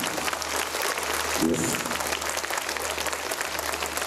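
An audience claps at a school annual day event, a dense, steady burst of many hands that fills the whole stretch at an even level in a large hall.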